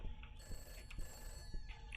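Faintly, a mobile phone rings from the middle of a room, a steady electronic tone with soft pulses that continues under low background noise.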